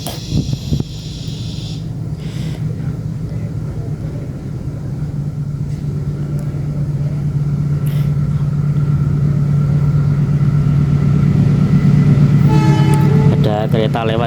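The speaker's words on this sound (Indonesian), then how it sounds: "Ada kereta lewat ya, sebentar." A train rolls past outdoors: a loud, rising low rumble that builds steadily toward the end, with a horn-like toot and rattling near the close and a faint voice early on.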